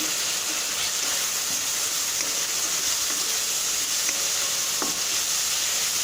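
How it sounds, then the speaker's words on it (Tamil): Tomatoes with a little salt sautéing in a pan for a fenugreek tamarind gravy, a continuous loud hiss of sizzling with a few faint stirring scrapes, no voices. "தக்காளி நல்லா வதங்கணும்"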